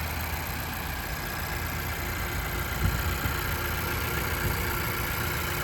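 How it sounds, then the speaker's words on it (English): A Honda CR-V engine idles steadily in a continuous, even drone, close by and unbroken, with no voices. "As you can hear, I do have the engine running."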